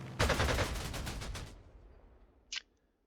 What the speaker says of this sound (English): And then we have all these fighters, so we can strafe some units. We'll strafe that one.